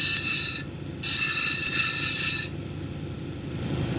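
A zebra marble cabochon dome is ground on a lapidary wheel before moving to 220 grit: a loud, close, steady rasping grind with brief dips in intensity, and no voices.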